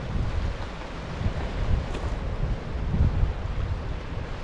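Ocean surf washes in steadily at foggy Ship Harbor in Acadia National Park, a low rolling roar mixed with gusts of wind buffeting the microphone, with no voices.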